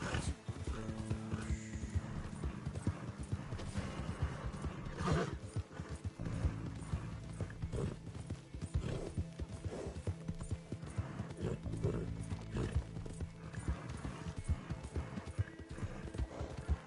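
Horse hooves clip-clop steadily at a walk in Red Dead Redemption 2, with a whinny rising partway through, all over a continuous game backdrop.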